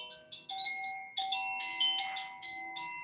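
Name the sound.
wind chimes ringing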